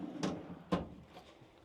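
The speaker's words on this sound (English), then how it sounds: "slide out drawer" Two quick sliding thumps close by, a slide-out drawer in a 2024 Infinity 15 Escape caravan rolling out and knocking to a stop, followed by a softer rattle.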